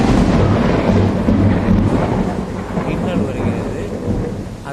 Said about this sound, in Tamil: பிறகு இடி சத்தம் வருகிறது தற்பொழுது ஒன்று வந்தது